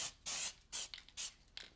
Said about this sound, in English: Next, I'll use a bit of spray glue